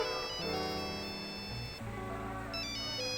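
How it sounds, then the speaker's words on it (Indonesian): A telephone plays a melodic electronic ringtone, a repeating pattern of bright tones that sounds steadily over a low musical backing for the whole stretch, with no talking. "Wah, ada telepon."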